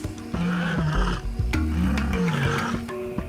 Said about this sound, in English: A big cat's ability to roar.